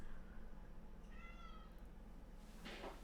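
A cat meows once indoors, faint and drawn out, over a low steady hum, with a short rustle near the end and no talk.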